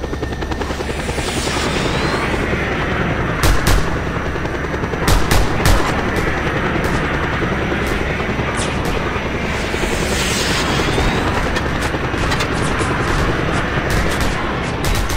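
Helicopter rotor drone throughout a Just Cause 2 combat scene, loud and steady, with bursts of gunfire cracking over it at several points, including sharp clusters around the middle and near the end; no speech.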